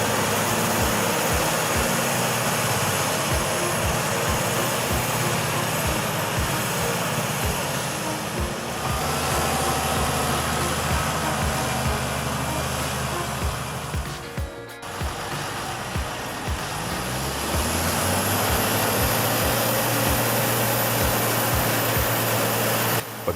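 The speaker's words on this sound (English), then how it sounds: "the rescue of a Deutz Fahr Agrotron 7250 TTV stuck deep in mud with a tank trailer behind it" A Deutz Fahr Agrotron 7250 TTV tractor with a tank trailer strains out of deep swamp mud, its engine roaring loudly and continuously, briefly dropping away before the pitch climbs and steadies again.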